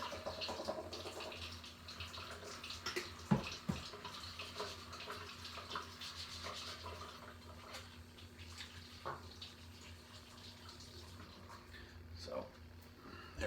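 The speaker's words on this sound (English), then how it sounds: "I'm going to wash my hands real quick" A tap runs steadily while hands are washed at a kitchen sink, faint splashing under a low hum with a couple of small clicks, and a voice talking over it.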